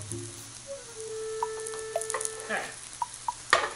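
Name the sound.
mashed potato frying in a pan, being flipped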